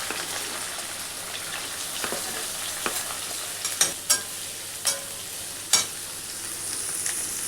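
Onion and chili fry in hot oil in a kadhai, a continuous soft sizzle broken by several sharp scraping clacks of a spatula stirring against the pan, close and unaccompanied by speech.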